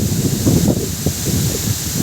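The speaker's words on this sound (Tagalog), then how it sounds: "sinalubong na tayo ng hangin ng malakas" Steady roar of strong storm wind buffeting the microphone on the water, with gusty low rumbling throughout and no voices.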